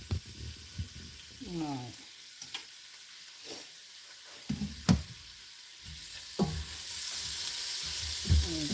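Rice and beans sizzle in a pan while being stirred, giving a soft hiss with scattered knocks and scrapes of a utensil. Someone speaks intermittently over it, and the sizzle grows louder toward the end.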